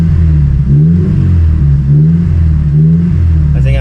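2006 Honda S2000 AP2 engine running loud and close, its idle rising and falling in a few gentle revs with a steady, uneven pulse.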